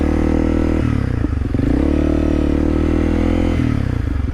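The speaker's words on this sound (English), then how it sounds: "I am on a 22 Honda CRF 300L Rally." A 2022 Honda CRF 300L Rally dual sport motorcycle rides on a dirt highway, its single-cylinder engine droning close and loud with shifting revs and gravelly clatter throughout.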